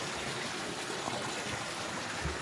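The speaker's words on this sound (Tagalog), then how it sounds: "tubig, gaagas." Steady rushing water streams and gushes at an outdoor swimming spot, a continuous broadband wash with faint low thumps, fairly quiet and unbroken.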